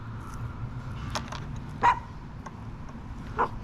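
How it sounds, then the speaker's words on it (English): A few sharp dog barks ring out in a garage where a Honda CRF450RL motorcycle is being worked on, spaced apart over a low steady background rumble. "Calm down, puppy dogs."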